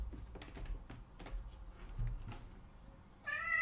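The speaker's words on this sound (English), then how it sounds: "that cat was walking all over his Quran" A cat gives one short, bright meow at the very end, preceded by scattered soft clicks and knocks like light tapping or movement, with no talk.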